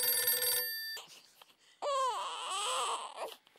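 A telephone's electronic ring sounds briefly and cuts off abruptly. After a short quiet gap, wavering, wailing tones follow, with no speech.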